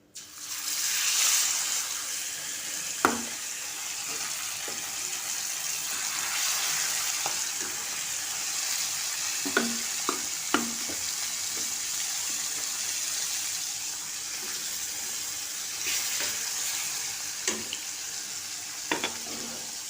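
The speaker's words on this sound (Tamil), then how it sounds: "வறுக்க இந்த சும்மா ஒரு அஞ்சு பீஸ் மாத்திரம் எடுத்து போட்டு வறுக்க" Pieces of fish fry in a pan with a continuous loud sizzle, joined by a few sharp clicks and taps of a utensil scattered throughout.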